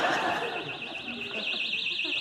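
A personal rape alarm shrieks continuously, a loud, piercing warbling tone that sweeps up and down rapidly and stays steady for the whole stretch, with faint indistinct voices underneath.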